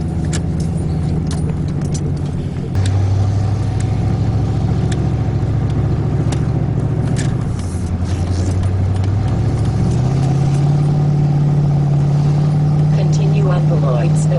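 A vehicle towing an RV camper hums steadily on the road, its low engine drone continuous and close throughout, with a shift in tone partway through as it changes speed, while a person talks over it.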